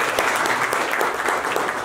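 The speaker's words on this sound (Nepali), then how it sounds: "एकचोटि ताली माग्छ।" An audience at a Nepali poetry book launch and birthday event claps together in a dense, loud, continuous burst of applause with no pauses.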